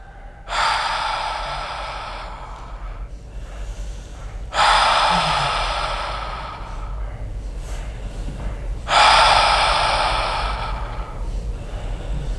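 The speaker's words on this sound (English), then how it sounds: "In and out of your mouth. Keep breathing." A person breathes deeply in and out through the mouth. Three long, airy breaths start about four seconds apart, each fading slowly, close and clear with no talking.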